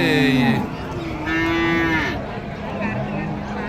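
Cows moo several times in succession at a cattle market, long drawn-out lowing calls, fairly close and loud with no talking.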